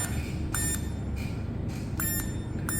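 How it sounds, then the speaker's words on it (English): An M5Stack Fire device alarm beeps in short, high-pitched tones, a few evenly spaced pulses with some doubled, loud and close. "it will start to beep."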